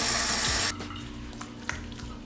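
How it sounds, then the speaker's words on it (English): Water from a tap runs onto a gel cleanser, starting as a loud, steady splashing stream that suddenly drops off, followed by quieter trickling and a few small splashes. "I'm gonna put some water on it."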